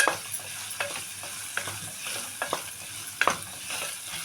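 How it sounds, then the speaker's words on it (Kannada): A spoon stirs potato, green beans and carrot as they fry in a pan, with soft sizzling running underneath and irregular scraping knocks close by. "ಇವಾಗ 1 ಆಲೂಗಡ್ಡೆ, ಹಸಿ ಬೀನ್ಸು, ಕ್ಯಾರೆಟು ಹಾಕ್ಬಿಟ್ಟು ಸ್ವಲ್ಪ ಇದು ಒಂದು 5 ನಿಮಿಷ ಈ ಥರ ತಿರುಗಬೇಕು."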